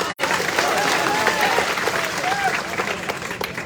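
A crowd at a Bhim Army political rally in Datia bursts into sustained, dense applause that stays loud and even for several seconds, with voices mixed in beneath the clapping.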